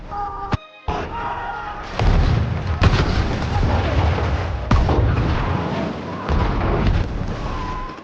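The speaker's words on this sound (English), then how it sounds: "German bullets hitting the tank were like a tickle." Gunfire and heavy blasts in a war movie battle scene, German bullets striking a French tank: loud, close bursts and booming impacts in a dense, continuous barrage.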